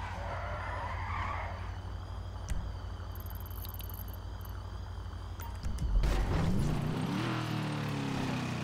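Tires skid and screech in a video game car, a steady rushing slide with a sharp swell about two-thirds through and a rising whine after, loud and continuous with no talk.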